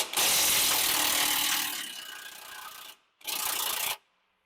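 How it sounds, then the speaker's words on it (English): A 21 mm track bar bolt and nut on a Jeep Wrangler are loosened with a wrench, giving two bursts of loud, close, rasping ratchet noise, the first long and fading, then a short one after a brief gap. "It's a 21 millimeter bolt and nut. So we're going to go ahead and loosen those up and get it out."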